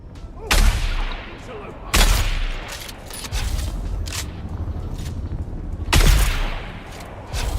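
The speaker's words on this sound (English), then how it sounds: "Don't know why it took so many shots to shoot him." Gunfire in the Dune Awakening video game, with several heavy booming shots spaced a second or more apart over a dense background of game sound, loud and close.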